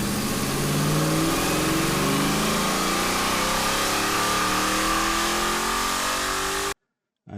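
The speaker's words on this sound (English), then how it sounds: "that's what the Gauntlet 4 currently sounds like accelerating" Gauntlet 4 muscle car engine in GTA 5 accelerating, a loud, steady rising roar with climbing engine tones through gear changes, cutting off abruptly near the end.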